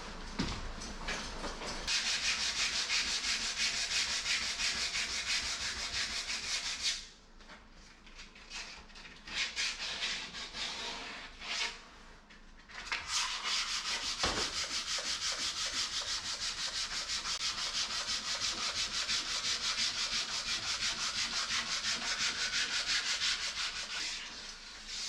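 Hand sanding with a small piece of sandpaper during a cottage kitchen renovation, steady close rasping strokes, pausing briefly midway before resuming the continuous scratchy rub.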